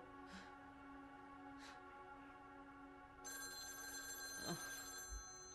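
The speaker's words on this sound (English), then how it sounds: "Phone call." A telephone rings in the video game The Medium, with repeated electronic ring bursts over a quiet musical hum, then a brighter, higher ringing tone joins partway through.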